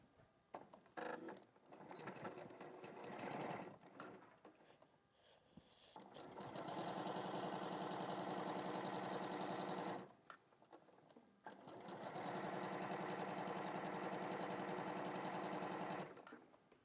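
A sewing machine stitches a seam in long, steady, loud bursts, with short pauses and quieter handling noise between the runs.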